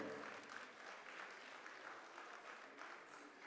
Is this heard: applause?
yes